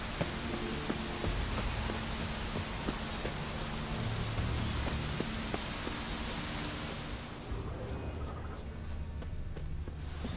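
Continuous rain in The Witcher 3: Wild Hunt patters evenly over a low ambient drone, a dense hiss of drops with occasional louder splashes, no talking.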